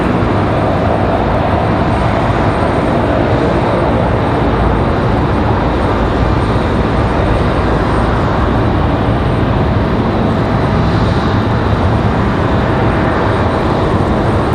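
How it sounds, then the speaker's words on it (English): A Breeze Airways Airbus A220 departs at night from Raleigh-Durham International, its jet engines producing a loud, steady broadband roar that stays near and constant throughout, with no voices. "So the A220 for Breeze Airways getting out of here."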